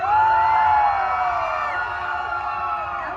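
Festival crowd at a Pride weekend event in West Hollywood screaming and cheering together, a loud sustained roar of many voices with high-pitched shrieks that stays dense throughout.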